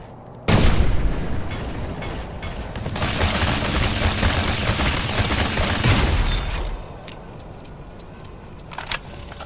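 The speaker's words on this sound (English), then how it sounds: "AKA the energy shotgun, or shoulder cannon shotgun." An energy shoulder-cannon shotgun in the Dolls Nest video game fires with a sudden loud blast that runs into several seconds of dense crackling, booming energy discharge, then fades to quieter game sounds with a few sharp clicks.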